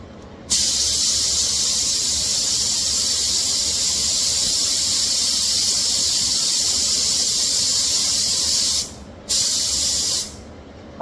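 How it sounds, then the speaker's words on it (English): A spray gun lays down a second coat of clear coat with a steady, loud, close hiss that runs unbroken for about eight seconds, stops briefly, and then resumes for a short final burst. "this particular clear, you spray it and then you go right in with the second coat"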